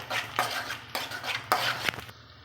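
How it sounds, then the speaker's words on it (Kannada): Kasuri methi is stirred in a hot pan, with a soft sizzle under several scraping strokes and light metallic clinks of a spoon against the pan, close by, ending abruptly. "ಕಸ್ತೂರಿ ಮೇಥಿ ಸ್ವಲ್ಪ ಹಾಕಿ ಹುರ್ಕೊಳ್ಬೇಕು"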